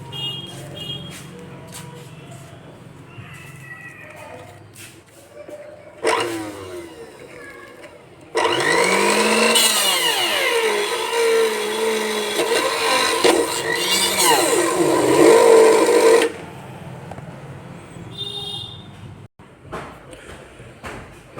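A National mixer-grinder motor coupler's teeth are ground against an abrasive surface, giving a loud, continuous rasping grind that lasts several seconds, with quieter handling noises before and after.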